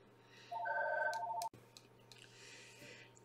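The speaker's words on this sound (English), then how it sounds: "Sorry, the phone was ringing in the back." A telephone ringing in another room: one brief electronic warbling ring burst, muffled and distant, followed by a sharp click and a quiet room hum.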